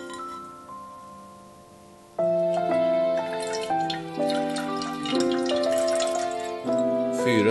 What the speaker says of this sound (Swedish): Vi börjar med att fylla på vatten där.